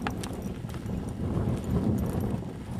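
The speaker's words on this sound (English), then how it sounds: "Hard for a horse to run when they're stiff like this." A stiff horse trots in circles, its hooves beating a steady, close clip-clop rhythm throughout with no voices over it.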